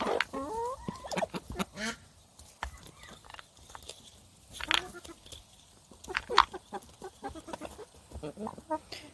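Chickens cluck and squawk nearby in short, irregular bursts, a busy back-and-forth of bird calls.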